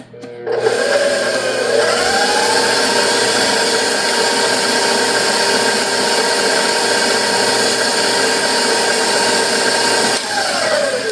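An electric mixer whirs loudly and steadily, blending pumpkin bar batter with a cup of avocado oil, a continuous motor drone that starts abruptly and slows briefly near the end.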